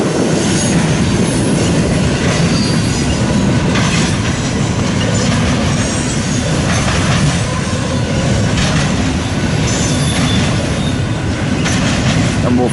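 An eastbound double-stack freight train rolls past close by, a loud steady rumble of railcars with rhythmic wheel clatter and occasional squeal throughout.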